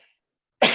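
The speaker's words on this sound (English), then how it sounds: "I apologize for my cough" A single short cough bursts out near the end after a near-silent stretch.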